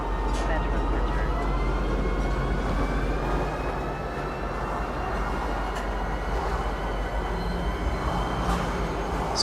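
Metro train running through a station in the video game Star Citizen, a steady loud rumbling drone with a continuous low roar and faint high whine that holds without pause throughout.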